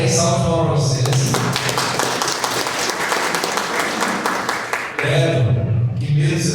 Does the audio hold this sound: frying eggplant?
no